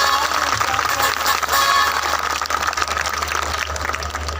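Audience at a speech in a Hindu temple in Hyderabad applauding, a steady, close wash of clapping that holds for several seconds and eases slightly toward the end.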